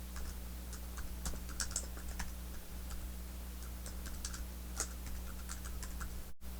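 Keys tapped on a computer keyboard to enter a short five-character folder code, quick irregular clicks in small bursts over a steady low hum, fairly close and moderately quiet.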